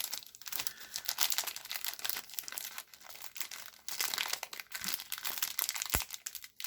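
A tightly taped plastic bag holding baseball cards is tugged and wrenched open, giving loud, close crinkling and crackling in bursts with brief pauses between pulls.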